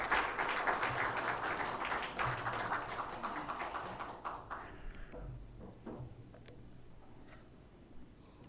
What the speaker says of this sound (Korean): 은혜로운 찬양해 주신 우리 성가대원들에게 다시 한번 감사의 박수하겠습니다